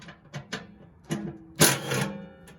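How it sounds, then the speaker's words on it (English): An impact wrench runs without an extension, giving several short, sharp mechanical bursts close by, the last and loudest one lasting about half a second. "You take off the extension, you get a lot more torque."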